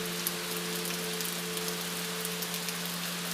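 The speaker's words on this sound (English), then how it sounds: "Ambience with soft, steady rain was the main sound." Soft, steady rain falling as an even hiss of fine patter, quiet and constant throughout, with a faint low hum running underneath.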